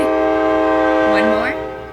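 A train horn blows loudly in a city, one sustained multi-tone blast that fades at the end, with a voice briefly over it.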